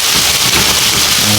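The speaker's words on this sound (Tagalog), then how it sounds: "So, umuulan dito." Steady, loud rain pours down outside a UK home during cooking, a dense continuous hiss of drops on surfaces with no pauses.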